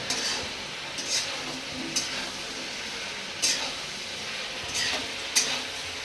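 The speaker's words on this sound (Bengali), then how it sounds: "কাঁচামরিচ ঢেলে ভালো করে একবার নাড়িয়ে নেব।" Green chilies, six pieces, being stirred into a pot of half-boiled food: a few distinct scraping strokes of a spoon against the pot, evenly spaced over a soft background hiss, with no talking.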